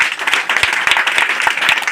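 Students at a Teacher's Day event in India clap in loud, dense applause that runs steadily and close through the whole short moment.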